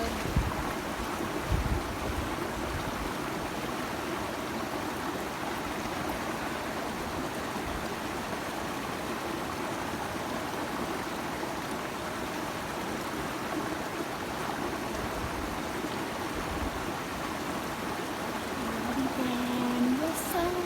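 Water from a stream flows steadily and evenly outdoors for about twenty seconds, a continuous broadband rush at moderate distance with no clear breaks, with a faint tonal sound appearing near the end.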